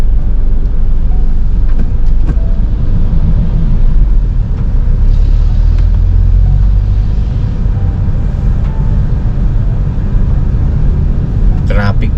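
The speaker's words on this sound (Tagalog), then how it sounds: "Traffic pa." Road traffic rumbles steadily past, a continuous low drone of cars and heavier vehicles heard close by, with people talking over it throughout.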